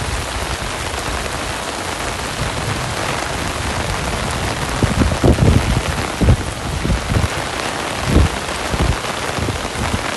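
Steady rain pours onto hard surfaces at Royal Phuket Marina in Thailand, a dense, loud hiss with scattered heavier drops and splashes pattering close by throughout.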